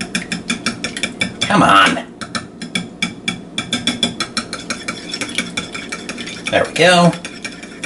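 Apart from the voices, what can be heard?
whisking eggs in a large container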